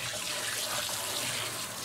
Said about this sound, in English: Sink is in and working, hot, cold water.